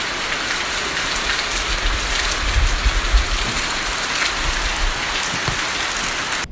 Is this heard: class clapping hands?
no